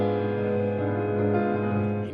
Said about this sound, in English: First, let me play you a diminished chord. It sounds like this.